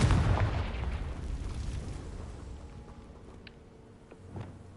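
A Confringo fire spell explodes in Hogwarts Legacy as one deep, close boom that rumbles and fades over a few seconds, followed by a faint small pop near the end.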